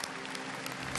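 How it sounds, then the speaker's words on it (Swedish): Applause from an audience at a Swedish awards gala, a dense continuous clapping heard briefly at moderate level with no talk. "Stor applåd!"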